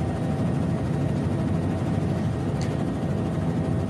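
A helicopter's steady, loud rotor and engine drone fills the scene close by, constant throughout with no speech.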